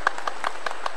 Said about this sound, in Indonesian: Tepuk tangan dong Gus Ipul.